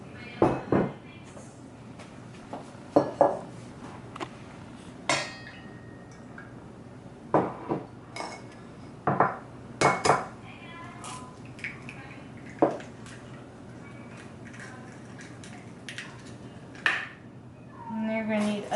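Mixing bowls and utensils being handled while making chocolate peanut butter cupcakes, scattered light clinks and knocks of dishes spaced over quiet stretches, close and soft, with a voice talking at times.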